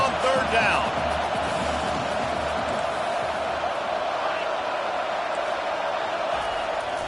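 Home crowd noise in a Madden football video game on a third down, a loud continuous wash of cheering and roaring that carries through the whole stretch with a brief louder swell at the start.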